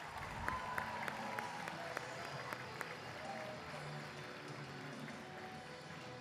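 Sustained applause from a crowd at a Model UN opening ceremony, a dense patter of clapping that carries on steadily, with a few louder individual claps standing out.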